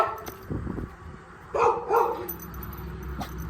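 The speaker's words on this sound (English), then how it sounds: "Quit barking at the neighbor." A dog barks a few times at a neighbor, medium close and fairly loud, with quieter yips and whimpers between the barks. Nobody speaks.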